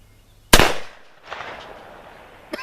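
A .45 Long Colt black powder cartridge fires once from a modern pistol: a loud, sharp close report that decays into a rolling echo, followed by a faint later click.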